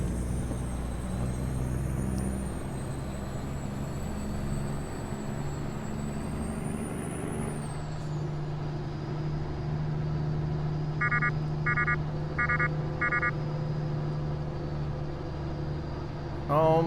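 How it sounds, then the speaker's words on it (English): Truck engine in a trucking video game, a steady low diesel drone rising in pitch as it revs, with a hiss midway and a few electronic beeps, while someone talks over it. "Guess everybody wants to hear me rev up the engine."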